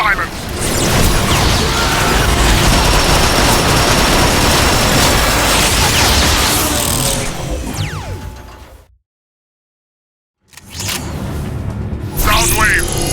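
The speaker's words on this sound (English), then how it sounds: "Soundwave, the Ark's defensive cannons are taking their toll." Heavy cannon fire and rapid gunfire from the video game Transformers: Fall of Cybertron, a dense, loud barrage of cracks and blasts that cuts to silence briefly before resuming.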